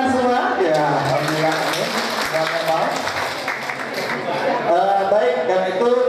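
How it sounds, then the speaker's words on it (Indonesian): An audience at an Indonesian community gathering in Kerinci claps together in a sustained round, mixed with voices and speech under the dense, steady applause. "Tepuk tangan. Tepuk tangan semua."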